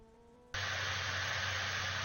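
In the Immersive Vehicles mod, an auxiliary power unit (APU) kicks on suddenly after a low electrical hum and settles into a loud, steady, high-pitched whine with a constant drone underneath, unbroken until the end.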